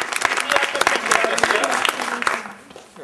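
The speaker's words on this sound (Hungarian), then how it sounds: "Lia, Liának is egy nagy tapsot kérünk." Audience at a Purim celebration applauding a child, loud close clapping with bright individual hand claps and a few voices mixed in, tapering off near the end.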